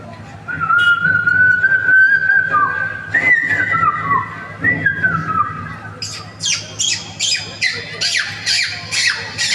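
A person mimics birds with a long whistled warble, then switches to a run of short, sharp squawks imitating a chicken, about a dozen in a rhythmic burst.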